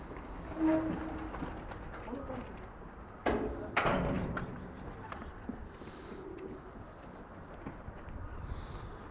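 Pigeons burst into flight as they are released, with a couple of sharp wing-flapping bursts, then coo softly amid background outdoor noise.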